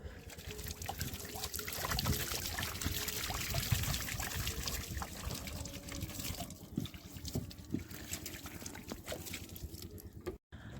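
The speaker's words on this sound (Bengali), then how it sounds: "দাদা এই চারগুলো ভিজোচ্ছে" Water is poured and trickles steadily over fishing bait in a boat on a big river, a continuous splashing dribble with rustling handling noises, fairly close, with no talk.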